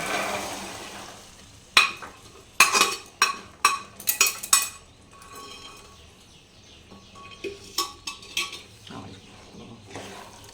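Chickpeas are stirred into a spiced masala in a pan, with a run of sharp scraping and clinking spoon strikes against the pan over a faint background sizzle.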